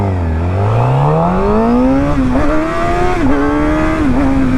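Suzuki GSX-R750 sport bike pulling hard in first gear during a power wheelie, its engine loud and close, pitch climbing steadily and then wavering near the top of the rev range.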